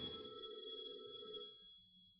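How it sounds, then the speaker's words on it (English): A telephone bell rings faintly at a distance with a sustained tone that fades out, in a quiet room with no voices. "Phone."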